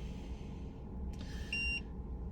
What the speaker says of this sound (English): I'm gonna try the tone on the eSEEK